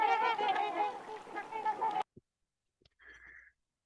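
A noisy cluster of ducks and geese in the Yukon honk and quack together for about two seconds, then silence with a few faint clicks and one short distant call.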